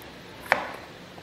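A knife chops the top off a jalapeño on a cutting board with a single sharp, quiet tap, and faint room tone follows.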